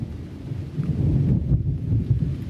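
Deep rumbling thunder rolls through a storm with rain, a loud sustained low growl that swells and lingers for a couple of seconds, no voices.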